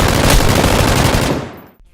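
An M249 machine gun firing in PUBG, one loud, close, rapid continuous burst lasting over a second before cutting off, followed by a brief fading tail.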